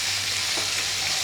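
Meat sizzles loudly in a hot pan, a dense, continuous hiss, with a faint soft knock partway through as a piece is turned over.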